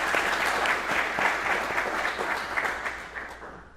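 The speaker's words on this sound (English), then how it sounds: "please give the guest of 1167 a round of applause" A graduation ceremony audience claps steadily in a large room, a dense, moderately loud wash of applause that slowly fades toward the end.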